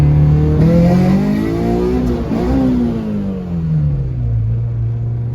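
Honda Civic with a swapped K24 engine revving high, the pitch climbing, peaking and then easing down into a steadier drone, loud and close with no talking.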